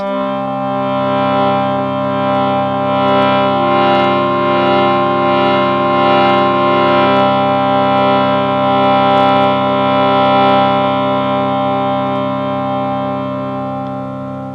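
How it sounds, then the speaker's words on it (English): A harmonium drones with sustained reedy chords, swelling gently as the bellows pump, steady and full throughout with no voices. "This is a harmonium."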